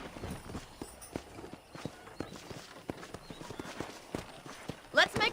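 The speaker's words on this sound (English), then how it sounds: "I picked out a fine horse for you." Horse hooves clip-clopping at a walking pace in the Red Dead Redemption video game on a ranch, a steady run of soft hoof knocks with a brief brighter sound near the end.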